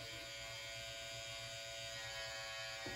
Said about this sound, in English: Get my clipper, I'm gonna need my trimmer